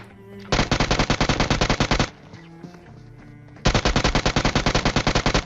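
Rapid automatic gunfire in PUBG: two loud, sustained bursts of evenly spaced shots, separated by a short quieter gap.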